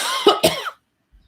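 A person clears their throat nearby, giving two quick rough bursts followed by a short voiced trailing sound and then silence.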